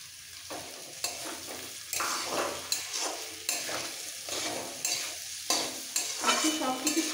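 Boiled potato pieces are stirred into softened onion and ginger frying in a pan, with a continuous crackling sizzle and repeated spatula scrapes at a steady pace, close and clear.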